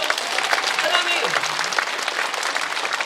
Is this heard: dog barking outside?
no